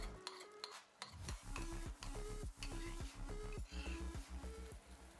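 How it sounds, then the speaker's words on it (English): Spinach paste frying in oil and butter in a pan, a constant sizzle with a spoon scraping and stirring against the pan in repeated strokes, close and fairly quiet, no talking. "To a pan, add some oil and butter. To this, add the ground spinach paste."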